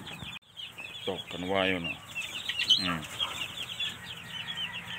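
White Kelso chicks clucking and cheeping close by, a cluster of rapid calls early on followed by scattered softer clucks, with someone speaking over them.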